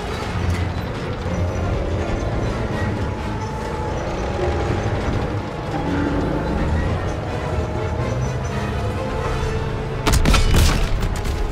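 Call of Duty WW2 video game gunfire, a continuous rumbling battle with clustered shots under it, ending in a louder sharp burst of shooting.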